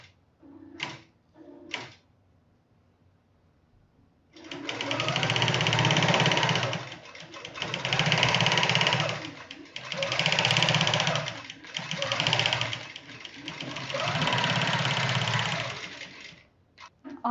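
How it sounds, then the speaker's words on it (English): A Grace Company computerized quilting machine stitches a design in several long, loud bursts of rapid, steady needle action separated by short pauses, preceded by a few brief clicks and quiet moments. "And I'll click sew. And we'll go ahead and let it do that next portion."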